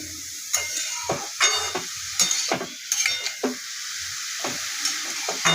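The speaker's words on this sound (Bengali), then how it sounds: "নুন আর হলুদ দিয়ে দিয়েছি এবার এটাকে আমি একটু নাড়াচাড়া করবো ভালো করে" Ash gourd seasoned with salt and turmeric sizzles gently in a pan while a utensil stirs it, giving sharp intermittent scrapes and clicks over a soft fry, close with no talking.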